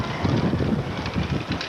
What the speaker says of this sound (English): No idea how high the wind is.